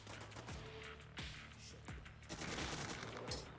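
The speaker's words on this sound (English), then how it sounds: "That was just grenades." Explosions from grenades in the video game Free Fire, a dense rolling barrage of bursts and gunfire-like cracks over a constant busy game backdrop, loud and continuous throughout.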